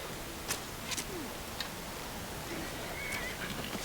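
A horse in Skyrim, accidentally shot, lets out a faint whinny over a steady hiss of background noise, with scattered sharp clicks and ticks around it.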